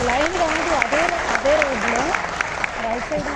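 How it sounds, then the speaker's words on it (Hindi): Audience applause at a Hindi business seminar: a room full of people clapping loudly and steadily, with a voice speaking over the clapping throughout. "उनकी सोच के लिए हम जोरदार तालियां मार सकते हैं"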